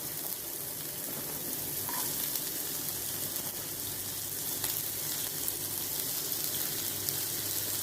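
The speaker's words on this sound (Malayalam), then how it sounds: "ഇതിലേക്ക് തന്നെ നമ്മൾ കുറച്ച് വെളിച്ചെണ്ണയും കൂടി ഒഴിച്ചിട്ട് നമുക്ക് കുറച്ച് ഉള്ളിയും മുളകും ഇഞ്ചി ഒരു വെളുത്തുള്ളി ഇതൊക്കെ കൂടി നമുക്കൊന്ന് വഴറ്റിയെടുക്കാം" Onion, green chilli, ginger and garlic sauté in coconut oil for a Kerala anchovy dish, giving a steady, close hiss of frying with faint scraping underneath and no voices.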